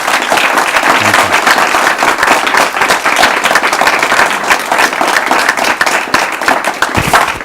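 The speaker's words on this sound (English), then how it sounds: "Let's all give a big round of applause to our guests." An audience at a university business-school fireside chat applauds a guest, giving dense, continuous crowd clapping that holds steady and loud throughout.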